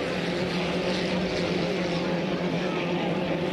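A T777 racing boat speeds along a regatta course at Saint-Félicien, its steady engine drone holding loud and even throughout with no break.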